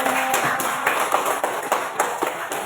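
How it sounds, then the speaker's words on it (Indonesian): Applause from a small group in an elementary school classroom, a burst of scattered clapping that carries on steadily for a few seconds, fairly close and moderately loud. "Oke, tepuk tangan buat kelompok."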